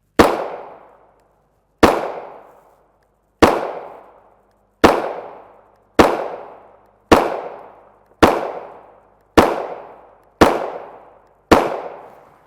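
Ten sharp, loud gunshots from a Glock 19 Gen 4 MOS pistol with a 4-inch barrel, firing 9mm 115gr FMJ steel-case rounds, spaced evenly about a second and a half apart, each decaying quickly into silence.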